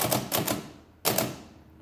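Keys pressed on a Facit-style mechanical calculator under repair, some keys still sticking; two quick clusters of clacks followed by one more sharp clack, close and crisp with no talking.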